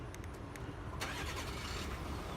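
A 2018 Ford F-150 Platinum with the 3.0 V6 diesel engine is remote-started, a brief starter burst followed by a quiet, steady low engine rumble, heard close up.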